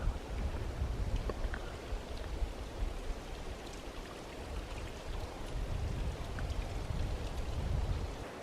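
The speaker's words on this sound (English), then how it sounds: "there's a little bit of a trickle of a waterfall" Small waterfall trickling in a canyon, a steady broadband wash of splashing water with low rumble, constant and moderately close, with no talk.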